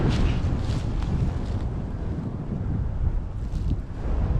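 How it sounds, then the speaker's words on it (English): Steady, gusty wind buffeting the microphone with a low roar throughout, no voices. "It's very windy today."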